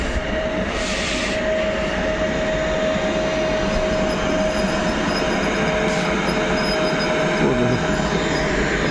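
An electric train pulls out of Łowicz Główny station with a loud, continuous rumble and a steady tonal whine, with faint wheel squeal and clicks near the end and no clear talk.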